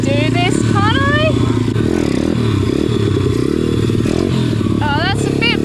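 A motorcycle engine revs in sharp rising bursts during footbrake wheelie practice, loud and close, with clatter and scraping between revs while a person talks over it.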